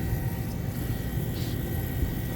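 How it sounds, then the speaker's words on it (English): Vacuum pump running steadily on a refrigeration service job, a continuous broadband mechanical hum and whir with low rumble, even and unbroken throughout at moderate level, no talk. "I'll turn off the vacuum pump."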